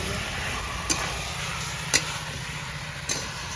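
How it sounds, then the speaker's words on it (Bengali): Broccoli and potatoes being sautéed in gravy in a village-style home kitchen, with a steady low sizzle running throughout and three brief sharp clicks of a stirring utensil striking the pan at regular intervals. "এখানে ব্রকলি আলু দিয়ে দেবো, গ্রেভির সঙ্গে একটু কষবো।"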